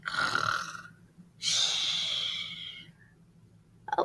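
A voice imitates snoring with a long rasping inhale followed by a drawn-out breathy, whistling exhale, loud and close, ending with a brief sound at the very end.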